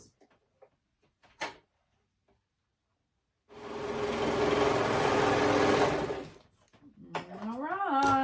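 A sewing machine stitches around a maxi dress in one sustained run of fast mechanical whirring, preceded by faint handling clicks and followed by someone talking.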